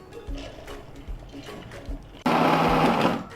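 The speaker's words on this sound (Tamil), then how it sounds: "இப்போ நான் இதை மிக்சி ஜாரில் போட்டு வடைக்கு அரைக்கிற மாதிரி தான் குறப்பாக தான் அரைச்சிக்கணும்" A mixer grinder coarsely grinds soaked chana dal and urad dal for a vada-style batter. After a few soft knocks, the motor suddenly starts a loud, steady whirring roar that runs to the end.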